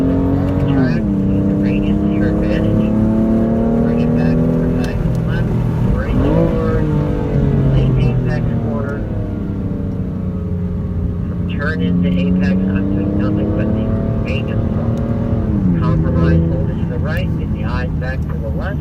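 A BMW M4 Competition engine pulls hard around the Monticello Motor Club North loop, its note rising and falling through gear changes and corners, loud and continuous beneath an instructor's coaching voice.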